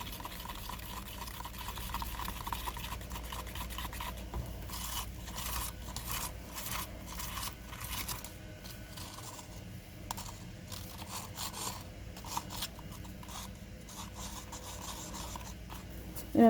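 Continuous rasping and rubbing of a thick glow-in-the-dark craft mixture being milled and stirred against the inside of a cup, a steady close scraping with short scratchy bursts and no talking.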